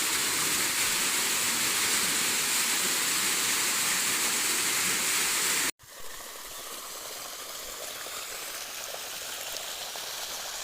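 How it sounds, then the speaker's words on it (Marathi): Water pours continuously through pipes into a well for recharge, a loud, steady rushing gush that cuts out abruptly midway, then resumes as a softer, broader flow. "आपण थोडं सारीच्या माध्यमातून पाणी विहिरीत घ्यायला प्रश्न केलेला आहे"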